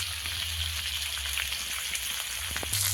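Spices with tomato and turmeric fry in a pan for a snakehead fish and eggplant curry, giving a steady close-up sizzle and crackle that lasts throughout with no voices.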